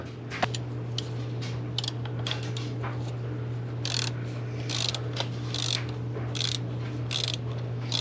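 Mechanical ratcheting and clicking from a wrench working the last bolt free on a Mercedes C55 AMG 772.6 automatic transmission, a series of short crisp ticks over a steady low hum in a garage.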